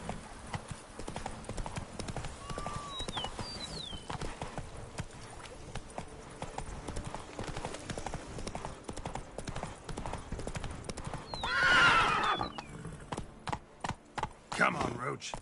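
Roach the horse in The Witcher 3 galloping with a rapid, steady clip-clop of hooves throughout, a brief snort or whinny near the end, and a voice speaking over the game sound.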